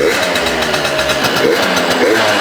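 A modified scooter engine idles loud and close, holding a steady, even rhythm without revving.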